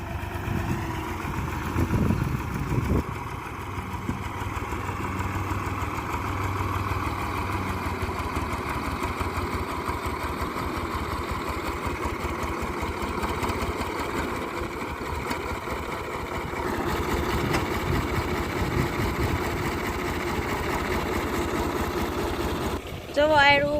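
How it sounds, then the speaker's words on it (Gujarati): A tractor-driven wheat threshing machine runs steadily on a farm in Kutch, a continuous mid-pitched engine drone with rattling mechanical churn, briefly shifting in load partway through, while people talk over it. "ઘઉં કાઢવા માટેનું મશીન સરસ મજાનું છે"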